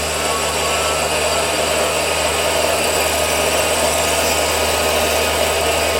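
A Warco WM180 lathe skims the outside diameter of a small part held in a collet, giving a steady, loud machine whine and hum that runs evenly throughout with no talking.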